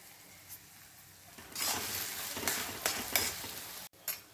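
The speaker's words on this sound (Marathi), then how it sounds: "आता हे वांग यामध्ये टाकायचं आहे आणि हलवायचं आहे" Mashed brinjal added to a hot pan and stirred for Jalgaon-style bharit, a moderate sizzle with scraping stir sounds that swell midway, then a faint clink near the end.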